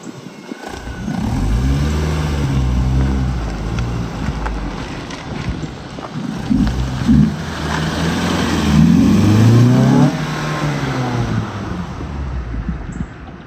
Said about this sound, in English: So obviously, I'm really excited that my car sounds so phenomenal.